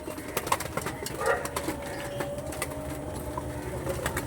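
Pigeons of a fancy breed coo softly in bursts amid a busy background of clicks and rustles, with faint murmuring voices nearby.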